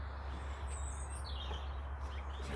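A robin sings in a garden allotment, a few faint, thin chirps and short phrases far off over a steady low hum and background rumble.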